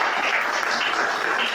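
A church congregation applauds together, a brief, dense wash of clapping from many hands that holds at an even level throughout.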